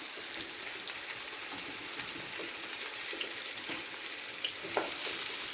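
Courgettes frying in oil for ratatouille, a soft continuous sizzle with small pops and occasional stirring, steady and fairly quiet with no talking.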